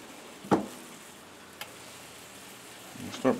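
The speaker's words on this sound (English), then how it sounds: "Here comes the sizzle." Hot pepper jam meatballs brown in a hot pan with a soft steady sizzle underneath, broken by a few sharp clanks and taps of the pan or utensil, the loudest near the start and at the end.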